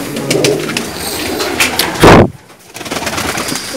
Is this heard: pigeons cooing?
yes